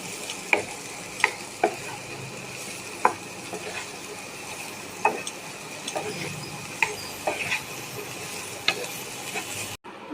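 A lady's finger pepper stir-fry, seasoned with chili and salt, is stirred in a pan, giving scattered spatula scrapes and taps over a steady low sizzle, close and fairly quiet.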